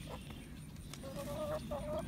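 Chickens and a rooster cluck softly in short, repeated calls, a few close-together notes near the end over a faint outdoor background.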